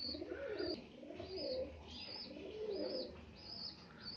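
Pigeons gathered at an automatic water feeder, giving faint, repeated low coos and soft chirps over a steady background hiss, with no voices.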